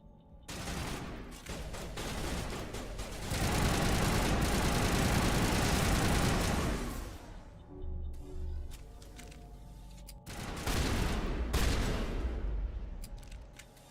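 Sustained weapon fire in the Mass Effect video game: loud, dense volleys of rapid shots that roll on for several seconds, thin out briefly, then burst back hard near the end, with no talking.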